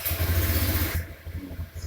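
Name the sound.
motorcycle engine started and running via WiFi smart remote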